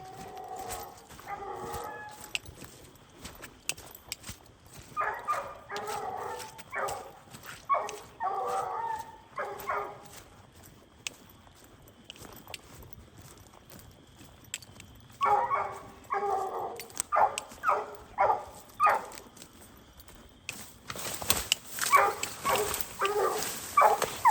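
A hunting dog barking treed at night, with repeated bursts of steady, rhythmic barks that come in several clusters, moderately distant, and no speech.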